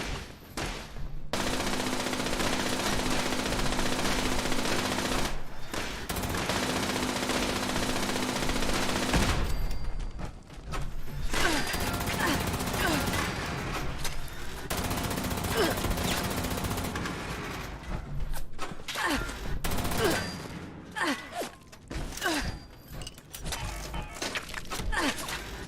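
Sustained gunfire in Fallout 76, long loud automatic bursts rattling for seconds at a time with short gaps between them, over a dense game soundscape.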